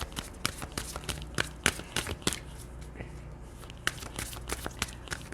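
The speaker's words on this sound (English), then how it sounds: "All of the decks I have a slightly different finish, so they require a slightly different shuffle." Tarot cards being shuffled by hand, giving a run of crisp riffling snaps and soft papery slides in uneven bursts, close and fairly quiet with no talk.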